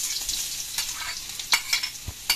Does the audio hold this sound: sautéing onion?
yes